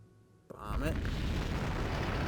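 A bomb explosion in the real-time strategy game Axis and Allies RTS during the invasion of Okinawa, a sharp crack followed by a loud, sustained roaring blast.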